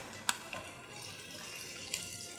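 Water runs quietly from a tap into a cooking pot of meatballs, potatoes and green beans, a soft steady stream with a few small splashes and clinks, faint and without voices.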